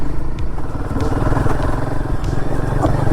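A Royal Enfield Guerrilla 450 motorcycle rides along a rough road, its engine a loud, close, steady rumble with clattering and crackling over it.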